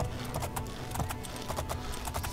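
Demon horse hooves clip-clopping in the video game Oblivion, a quick steady rhythm of close, crisp hoofbeats over a soft background rumble.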